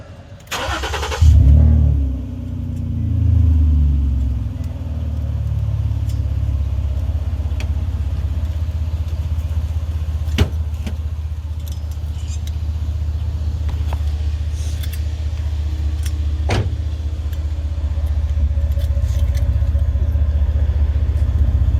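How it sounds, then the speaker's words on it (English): A straight-piped car exhaust with 40 series Flowmaster mufflers and the resonator removed cranks over and settles into a loud, deep, steady idle rumble, with a few sharp blips and revs standing out, heard up close and alone. "So the exhaust was 40 series Flowmasters."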